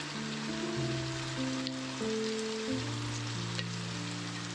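Masala and onions fry in a pan for a Goan chana gravy, giving an even, steady sizzle that continues without a break.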